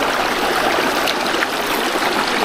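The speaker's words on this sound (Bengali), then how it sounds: "আর পানির গর্জনটা একবার শুনুন ও মাই গুডনেস পানির কি গর্জন" Roaring stream of water rushing over rocks at Sada Pathor (White Stone) in Sylhet, a loud, steady broadband rush that stays unbroken and close throughout, with no voices.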